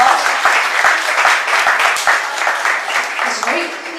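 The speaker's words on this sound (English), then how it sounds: "If you get a round of applause." An audience applauds after a sushi chef's Saba Sugatazushi demonstration, steady clapping that swells and sustains for several seconds, close and fairly loud, with a voice speaking briefly near the end.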